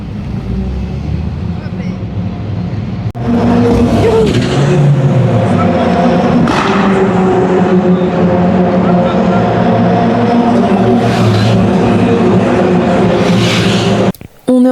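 A race car on a Ligier JS Cup / Fun Cup circuit roars loud and steady, the engine drone rising after a quieter start, with a sharp cut near the end and talk mixed in.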